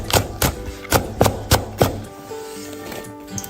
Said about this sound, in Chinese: 再切点蒜苗叶子。